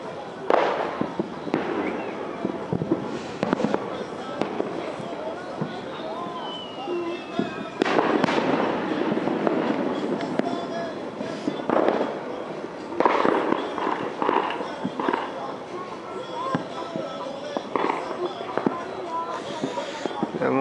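New Year fireworks and firecrackers bursting repeatedly for twenty seconds, a steady stream of sharp pops and crackles near and far, with voices chatting and exclaiming throughout.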